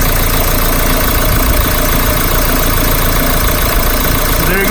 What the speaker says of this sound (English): I'm gonna turn the engine on.